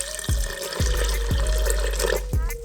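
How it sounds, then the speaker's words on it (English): Water pours steadily into a cooking pot for Jamaican rice and peas, a continuous close splashing flow with a few louder glugs and dull knocks along the way. "And then we're gonna add our water."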